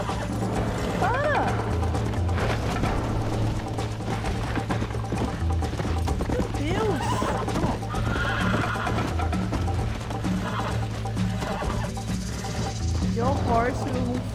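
A horse whinnies several times amid busy Red Dead Redemption game sounds, clattering hooves and mechanical noise, with a person exclaiming over it.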